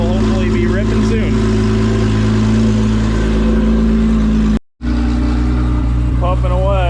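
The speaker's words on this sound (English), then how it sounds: "I just got the car started up. It's idling up for its first hit here" A race car engine idles at a drag racing event, a loud, steady low rumble with a brief cut-out near the end, and a voice talking over it.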